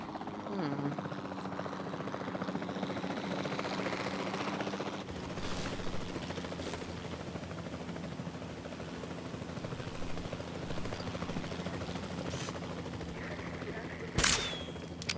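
A helicopter's rotor drone and engine hum run steadily throughout, with a sharp burst of gunfire-like noise near the end, in the video game Jurassic World Evolution 2.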